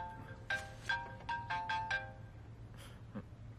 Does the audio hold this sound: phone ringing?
yes